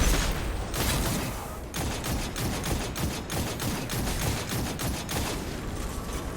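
An Arc Scout Rifle in Destiny fires in a steady stream of rapid shots inside a Lost Sector, with dense combat noise and no voices.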